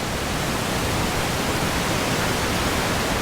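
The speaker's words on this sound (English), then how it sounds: "You see this waterfall right below me." A waterfall in the Green River Gorge near Seattle roars as a steady, dense wash of broadband noise, close and constant, with no voices heard.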